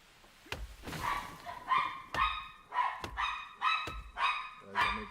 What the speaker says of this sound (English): I may be able to hear my dogs.